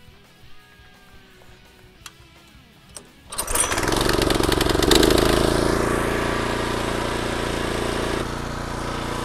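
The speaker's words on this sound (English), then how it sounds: "I'm gonna take the reel mower, put it down low." A powered reel mower set low for scalping Bermuda grass starts up after some quiet handling noises, then runs as a steady, loud, close engine drone with a whirring cut that holds for several seconds.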